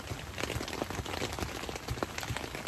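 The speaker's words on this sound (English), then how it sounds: "It's pouring." Heavy rain pours during a backpacking trip in Montana, a dense, steady patter of drops drumming nearby without a break, with no voices.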